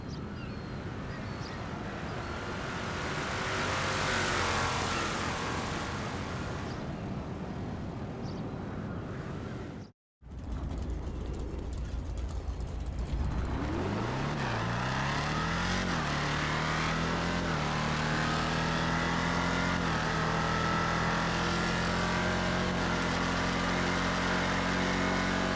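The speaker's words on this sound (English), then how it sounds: "A sound that sounded really loud coming from the trophy truck" Trophy truck engine in GTA Online, a loud sustained roar with rising and falling revs, broken by a brief silent gap before the engine climbs again into a steady high-pitched drone.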